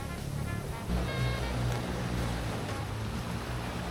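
Ocean waves breaking on a beach in Quezon, Philippines, a steady loud surf wash with wind rumble throughout, swelling briefly near the one-second mark.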